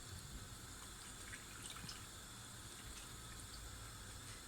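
Water from boiled yufka pastry sheets draining into a sink, a steady broadband splashing and trickling close by that runs without a break, with no talking.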